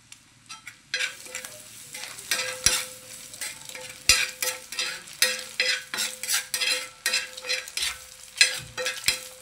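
Egg pieces frying hard in a hot tadka tempering, with loud crackling sizzle and repeated scraping stirs of a spoon against the pan; no talking.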